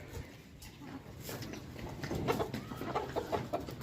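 Chickens cluck in a burst of close, overlapping calls as they are brought food, growing louder and busier toward the end over faint background noise.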